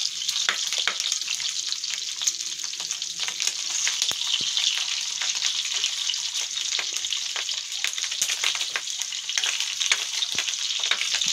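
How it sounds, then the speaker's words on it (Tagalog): Meat frying in a small amount of oil, a close, steady sizzle with dense crackles and frequent sharp pops throughout, no voices. "Iprito ko po siya pero kunti lang yung oil na nilagay ko"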